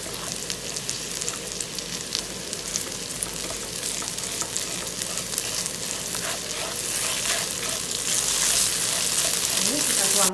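Shrimp paste (terasi) sizzles and crackles in a hot pan, a steady dense frying hiss with occasional stirring scrapes running throughout, with no voices over it.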